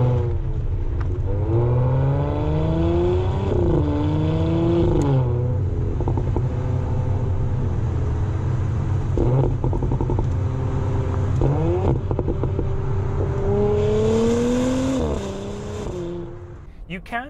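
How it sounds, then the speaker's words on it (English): A 2021 Audi SQ5's V6 engine while driving, pulling steadily and loudly with revs repeatedly climbing and easing back through gear changes, a continuous close drone that fades slightly at the end. "And this is what it sounds like when you're on the move."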